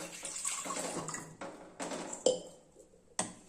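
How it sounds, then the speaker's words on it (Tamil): Two tumblers of water poured into a cooking pot for a soup, heard as short bursts of splashing and trickling with brief gaps between them, ending with a couple of sharp clinks of vessel against pot. "நான் ஃபஸ்ட்டு ரெண்டு டம்ளர் தண்ணி ஊற்றிக்கிறேன்"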